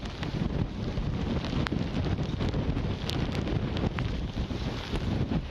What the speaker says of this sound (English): we have sustained winds of 65 gusting to 82 miles an hour